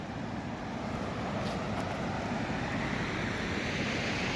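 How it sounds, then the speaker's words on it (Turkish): A river in the Albanian Alps near Theth National Park rushes steadily beside a walking path, a constant broadband wash of flowing water with no voices. "Nehir kenarında yürüyoruz"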